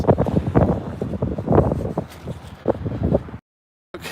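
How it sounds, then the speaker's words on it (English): Steady gusting wind roars and buffets the microphone for a few seconds, then cuts to silence before a brief burst returns. "It's windy as fuck."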